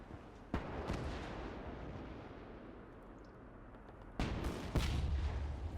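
Soviet tanks fire cannons at a German Jagdpanther during a WWII battle in the game Gates of Hell, heavy booming shots, one early and two close together later, over a continuous rumbling battlefield din.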